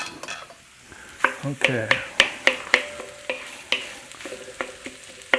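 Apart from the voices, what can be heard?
turkey fried rice stir-frying in the pan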